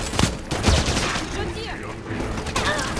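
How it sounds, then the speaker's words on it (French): Dense gunfire from the video game Halo 5 Guardians, a sustained fusillade of overlapping shots with thumping hits that stays fairly loud throughout with no let-up. "Ça tire depuis le pont."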